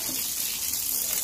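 Tap water running at a sink while duck meat is rinsed: a steady, bright splashing gush, close and continuous throughout, with no speech over it.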